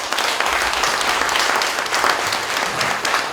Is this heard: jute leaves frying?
no